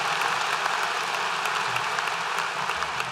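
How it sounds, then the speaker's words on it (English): A high school audience applauds a group of students, a dense, steady wash of many hands clapping that holds loud and even throughout without any talk. "Let's give those students a round of applause"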